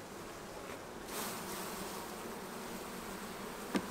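Honeybees shaken from a frame into a small hive, a steady swarming hum with a soft rush of bees landing and one brief sharp knock near the end.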